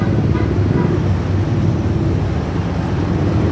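Dense road traffic made up mostly of private cars on a Philippine street, a steady, loud rumble of many engines and tyres that continues without a break.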